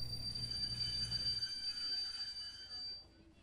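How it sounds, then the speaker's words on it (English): Train rolling on rails in an anime scene, a low rumble for the first second and a half that then fades as it slows to a halt, leaving a steady high tone and faint background. "The train stopped moving?"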